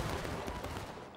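Musket volley fire in the Civil War game War of Rights, set at an Antietam reenactment: a dense, continuous roar of many muskets firing together, loud and sustained throughout without clear breaks between shots.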